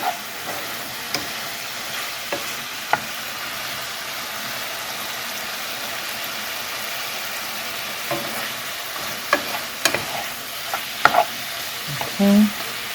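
Vegetables sizzle and fry steadily in a hot pan with no oil or butter, steaming in their own water, with a constant crackling hiss and occasional sharp pops and clicks near the end.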